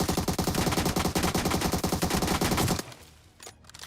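Rapid automatic gunfire in the mobile battle royale game BGMI, a loud continuous burst of evenly spaced shots lasting nearly three seconds, then stopping abruptly into quiet background.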